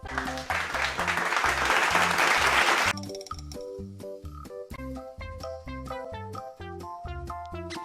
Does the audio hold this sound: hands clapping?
yes